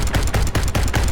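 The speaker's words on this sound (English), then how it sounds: "His protest was drowned out by rapid gunfire as the second soldier opened up" Rapid gunfire from a soldier's weapon firing on an approaching horde: loud, fast bursts of shots in a steady stuttering rhythm, close and alone without talk.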